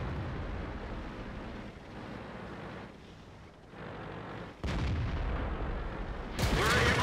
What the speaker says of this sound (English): There goes the artillery shot.